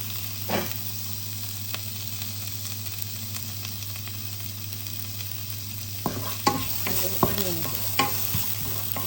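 Onion and garlic fry in a pan under a low, steady sizzle and a constant hum, then several sharp stirring clanks and scrapes toward the end.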